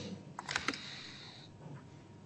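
A few quick keystrokes are typed on a computer keyboard, close and fairly quiet, as a short burst of clicks followed by a soft tap over a quiet room background.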